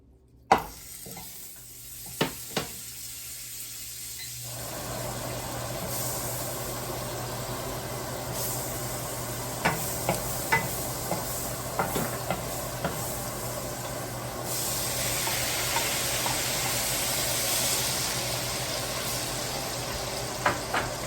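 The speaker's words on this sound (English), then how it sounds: "Right now I'm just going to go ahead and cook up some of my onions and garlic in some of my herb butter." Onions and garlic cooking in herb butter, a quiet start then a growing steady sizzle with scattered utensil scrapes and taps, close and with no talk.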